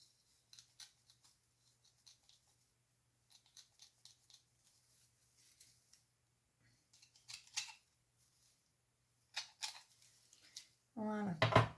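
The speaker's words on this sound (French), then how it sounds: "je vais prendre le ciseau. Hop. Et je viens couper" Scissors snipping paper for an Easter scrapbooking box, a series of faint, crisp cuts spaced out amid near silence, ending in a louder rustle of handling.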